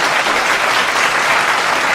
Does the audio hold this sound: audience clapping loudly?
yes